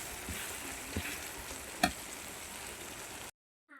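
Spice paste with ginger and chilli frying in a pan, a close, even sizzle with a few sharp spatters and stirring clicks, then abrupt silence at the end.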